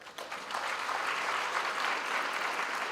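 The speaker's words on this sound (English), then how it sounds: "I'm sure this needs a round of applause." Graduation ceremony crowd at a university breaks into applause, a few scattered claps at first swelling within half a second into a dense, sustained roar of many hands that holds steady.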